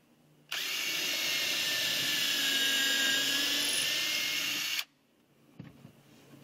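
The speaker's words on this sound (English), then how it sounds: "then drill a hole for it as well." A power drill bores into wood while building a raised garden bed, in one loud, steady burst of several seconds, then cuts off, leaving a quiet room and a light clatter.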